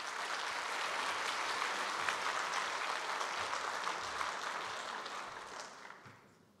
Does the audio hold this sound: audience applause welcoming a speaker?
yes